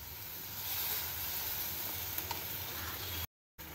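Vegetables sizzle in a hot pan for a homemade Indian sabzi, a steady, fairly quiet frying hiss that runs unbroken until a short dropout near the end.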